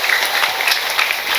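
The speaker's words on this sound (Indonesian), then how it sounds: "Saya minta tepuk tangan dulu dong buat panitianya" An audience at an Indonesian religious gathering claps for the organizing committee, a dense, loud burst of applause that holds steady throughout.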